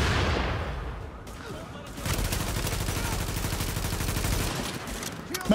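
A small submachine gun in Tom Clancy's The Division fires in rapid sustained bursts, dense crackling gunfire that goes on for several seconds with a brief lull early on.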